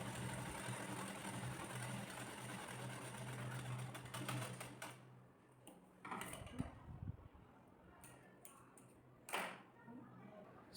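Sewing machine stitching blouse fabric, a steady mechanical hum for the first five seconds, then short intermittent bursts of stitching with pauses and light handling sounds nearby.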